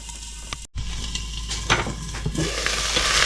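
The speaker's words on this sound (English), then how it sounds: "now we've got it all sizzling and stirring" Food, including beet leaves, stems and roots, sizzles steadily in a pan while a utensil scrapes and stirs through it, with a brief clatter near the start.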